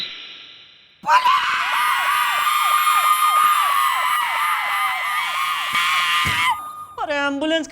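A loud ambulance-style siren cuts in after a second of near-silence and wails in quick repeated up-and-down sweeps for several seconds, then stops abruptly, followed by a short burst of voice.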